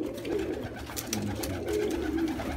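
Pigeons in a loft coo softly and repeatedly, fairly close, against a busy rustling background of flapping and shuffling.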